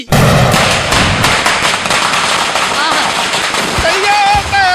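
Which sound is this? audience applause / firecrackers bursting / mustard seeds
firecrackers bursting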